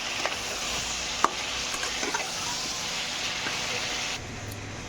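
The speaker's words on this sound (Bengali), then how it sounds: "দিয়ে ভালো করে নেড়ে লাল করে ভেজে নেবো।" Chicken pieces sizzle and hiss in hot oil with salt and turmeric, a steady frying crackle broken by a few scraping stirs of a spatula, close and fairly loud until the hiss drops off near the end.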